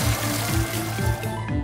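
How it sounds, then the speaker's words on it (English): Cartoon milk pouring into the cistern of a truck, a steady continuous liquid gurgle and trickle with a rhythmic low bubbling pulse, close and moderately loud throughout. "The milk is being poured into the cistern"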